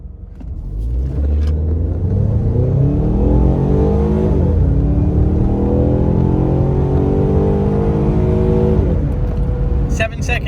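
Ford Mustang EcoBoost launching in sport plus mode during a 0-60 run, the engine note climbing loud and close through several rising gear pulls with brief drops at each shift, then easing off at the end.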